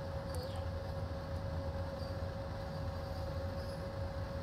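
BR 185 freight locomotive running in the Train Sim World 2 game on a freight run toward Letmathe, giving a steady, continuous rolling rumble with a thin tonal whine held throughout, no voices.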